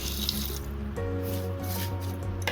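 Water runs from a tap into a pressure cooker holding cabbage in a home kitchen, a steady pouring and filling sound with a rising tone as the vessel fills, clear and close with no talk.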